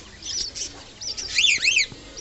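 Pet cockatiels and strawberry finches chirp in an aviary, a few short high tweets and quick rising-falling calls in bursts, close and fairly clear over a quiet background.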